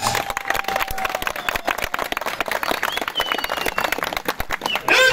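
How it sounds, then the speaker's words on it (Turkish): Applause breaks out at a village association election and donation gathering in Durağan, Sinop, with dense, steady clapping from a crowd filling the scene, mixed with scattered voices and a brief whistle. "Alkışlar."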